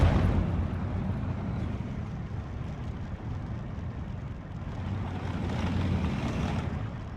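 Artillery barrages rumble through a Steel Division 2 battle, a steady, dense low roar of distant explosions with no speech over it.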